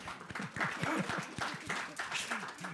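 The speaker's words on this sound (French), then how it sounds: "on peut l'applaudir, il va être content" Audience applause at a French conference round table on global companies and workplace well-being, a steady patter of clapping with voices talking over it throughout.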